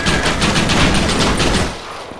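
Sustained, loud gunfire from many weapons during the Fort Mercer raid in Red Dead Redemption, dense overlapping shots that continue for nearly two seconds before dropping away.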